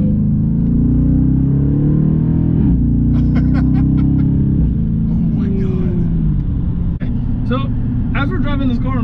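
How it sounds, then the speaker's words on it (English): A 2019 Dodge Charger Daytona cruises at highway speed with a deep, steady engine and road rumble inside the cabin, while people talk over it. "Driving this car on a highway hitting 70 miles an hour"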